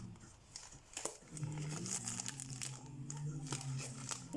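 A parcel envelope holding a diamond painting kit is pulled open nearby, giving faint crinkling and tearing plastic sounds with a few rustling crunches, and no talk.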